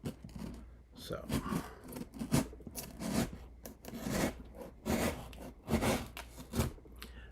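A blade slices open a cardboard box in a series of short rasping strokes, close and fairly quiet, with a few brief spoken words in between.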